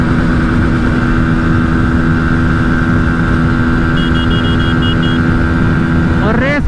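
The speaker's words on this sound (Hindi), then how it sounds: "लो इसमें देखो लिमिटर पे लिमिटर मारे जा रहे हैं।" Pulsar NS160 and TVS Apache 160 2V motorcycles droning hard at high revs, a steady bouncing limiter buzz that holds loud and constant before the pitch sweeps upward near the end.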